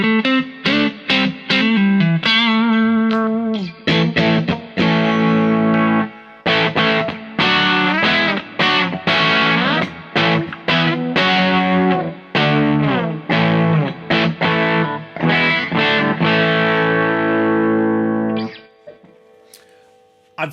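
Electric guitar played through a Wampler Tumnus Deluxe overdrive pedal, loud and close, with a run of picked notes and strummed chords carrying a warm, bass-heavy drive, then a brief fade near the end.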